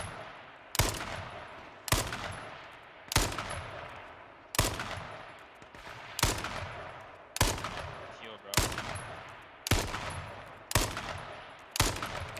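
Gunshots in the H1Z1 video game ring out in a regular series of about ten loud, sharp single reports spaced roughly a second apart, each trailing off in a short echo.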